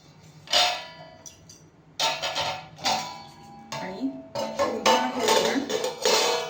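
A metal lid clanks onto a pot of tomato varan after the gas is turned off, several close, sharp clattering knocks of metal on metal spaced over a few seconds.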